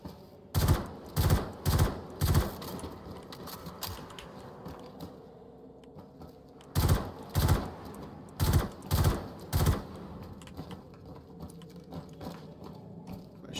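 Gunfire in Star Citizen comes in two clusters of four or five sharp, evenly spaced shots, loud and close, each burst separated by a stretch of quieter mechanical background hum.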